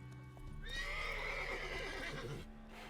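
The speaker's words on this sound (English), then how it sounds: "Calm down, horse." A horse in a video game gives a long, clear neigh over a steady background of game ambience, with hoofbeats faintly beneath, close and fairly quiet overall.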